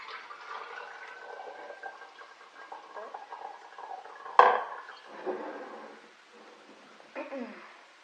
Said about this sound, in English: And first we're going to dump hot water in.